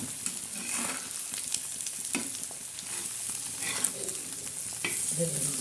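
Egg bhurji fries and is flipped in a pan, giving a steady, close sizzle throughout, broken by scattered scraping and tapping from the turner.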